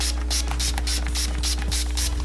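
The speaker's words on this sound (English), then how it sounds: "go in with my setting spray and pat it all in" Rapid, rhythmic hissing spritzes from a makeup setting spray bottle, several quick pumps in a row over a steady low hum.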